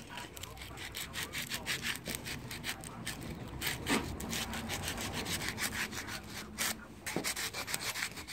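A GY6 180cc scooter engine part being sanded with sandpaper by hand, a continuous close rhythmic rasping rub of quick back-and-forth strokes, steady and fairly loud.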